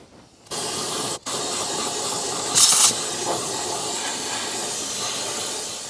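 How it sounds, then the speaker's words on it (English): Compressed air hisses from an air compressor nozzle, blowing dust out of the cabin air filter housing of a Toyota Prius; a loud continuous blast, briefly interrupted, then a sharper spurt midway before settling back. "I'm going to take the air compressor and kind of blow around inside there"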